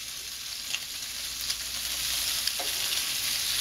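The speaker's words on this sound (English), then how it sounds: "we want to flip. We're going to turn this down when we flip for safety." Bacon and cabbage for Taiwanese-style cabbage frying in a pan as they are flipped, a steady close hiss of sizzling with a few soft scrapes and taps from the turning.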